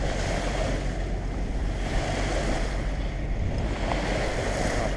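A sailboat motoring across the open sea on a windless day near Valle Gran Rey, heard as a steady broadband wash of water and hull noise with a low engine rumble and some wind buffeting on the microphone.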